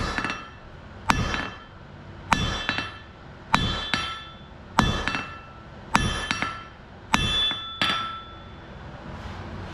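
A hammer strikes hot metal on an anvil at a forge, eight sharp ringing blows at a steady, unhurried rhythm, each ringing briefly before the next, close and clear with no talk.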